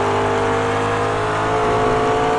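A Riley prototype race car roars at high speed while closing on a McLaren on a fast circuit, a loud sustained engine drone with steady tonal whine throughout.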